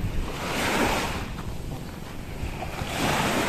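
Sea waves surging onto a white sand beach, a steady broadband wash of surf with wind rumbling on the microphone, swelling near the start and again at the end.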